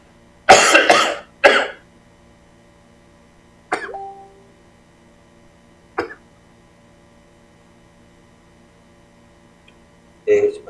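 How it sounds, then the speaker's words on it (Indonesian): Someone coughs several times close up: two harsh coughs back to back, then a few shorter throat-clearing coughs spaced out over quiet background hum. "Maaf ya, saya agak batuk ini."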